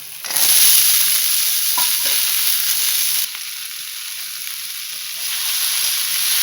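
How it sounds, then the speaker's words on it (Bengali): Vegetable stalks and tomato fry in a spiced masala for a fish curry, giving a loud close continuous sizzle and hiss that softens briefly partway through before rising again. "ডাঁটা দিয়ে একটু ভেজে নিয়েছি, ডাঁটা আর টমেটো"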